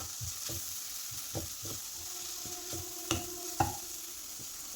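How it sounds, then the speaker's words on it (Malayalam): Spices, including black pepper powder, fry in a pan with a low, even sizzle, punctuated by several soft stirring scrapes and a couple of sharper knocks of the spoon. "ഒരു 1/2 ടീസ്പൂൺ കുരുമുളക് പൊടിയാണ്, അതുകൂടി ഇട്ട് കൊടുത്ത് നമുക്ക് ഒന്ന് ഇളക്കി കൊടുക്കാം."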